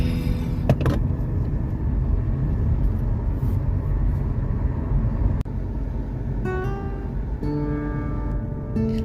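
A steady engine rumble and road noise fill the cabin of a car on the move, loud and continuous, with a brief knock partway through and a tonal whine near the end.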